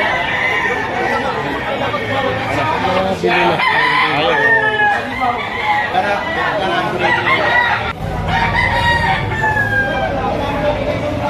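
Bullstag roosters at a live poultry auction, several crowing loudly in overlapping calls amid clucking and crowd chatter, with someone talking throughout.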